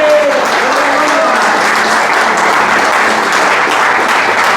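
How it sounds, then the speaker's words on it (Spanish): A church congregation applauding, loud sustained clapping from many hands filling the room without a break, a few voices faintly mixed in. "Dale el aplauso al Señor."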